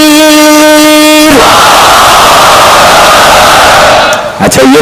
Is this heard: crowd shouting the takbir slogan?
yes